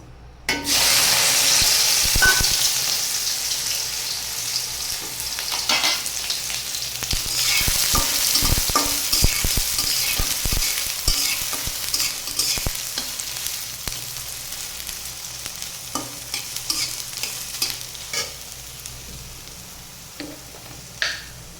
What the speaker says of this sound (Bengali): এই সয়াবিনটা একটু ভেজে নেব।